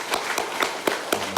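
A church congregation claps in thanks and respect for their elders during a Sunday service, with sharp, evenly spaced claps sounding close and clear.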